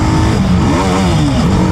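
A TVS Apache RR310 motorcycle engine runs at low speed, a close, loud, steady thrumming drone with slight wavering in pitch, no voices.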